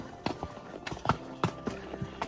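Horses plod along a rough mountain trail on the Lake Solitude loop, their hooves striking dirt and rock in an uneven clip-clop. Several distinct hoofbeats land close by in steady walking rhythm, with no voices.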